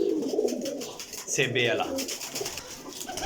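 Kasuri breeder pigeons coo in a loft near Jhelum, soft throaty calls repeating close by while someone talks over them.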